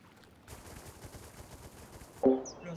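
Automatic gunfire from the survival game Rust, a sustained rapid burst of shots running for about two seconds at moderate level, ending abruptly in a sharper, louder blast.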